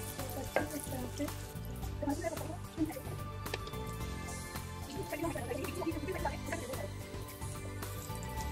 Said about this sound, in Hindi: अपना लहसुन को थोड़ा सा फ्राई कर लेंगे।